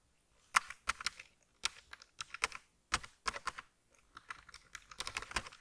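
Rapid bursts of typing on a computer keyboard while writing HTML code, close and clear, falling into irregular clusters of keystrokes separated by short pauses, with no voices.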